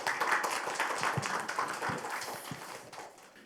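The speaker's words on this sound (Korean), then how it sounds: "박수로 환영해 주시기 바랍니다" Audience applause welcoming a speaker at a 2023 youth debate forum hall, a steady wash of many hands clapping with a few sharper individual claps, moderately loud and slowly easing off toward the end.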